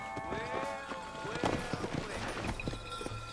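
Horse hooves clip-clop at a steady trotting rhythm in Red Dead Redemption, close and fairly quiet, with game music tones and a voice speaking over the steps.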